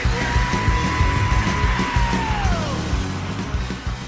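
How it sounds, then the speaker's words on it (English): Metal song with growled scream-singing vocals over distorted electric guitars and hard-hitting drums, loud and dense, a sustained tonal line sliding down near the end. "better known as scream singing"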